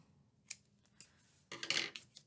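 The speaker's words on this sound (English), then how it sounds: "cutting some yarn," Scissors snipping brown yarn while making a crocheted mini snowman: one quick metallic snip, then a brief burst of cutting and handling rustle, close but quiet.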